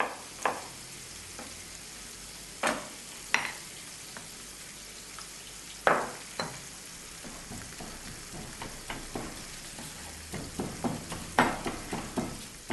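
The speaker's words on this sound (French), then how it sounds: "De l'ail, qu'on écrase au pilon dans un mortier" Garlic with a little salt is crushed with a pestle in a mortar, a series of close knocking thuds and gritty grinding scrapes at an uneven pace, growing busier toward the end.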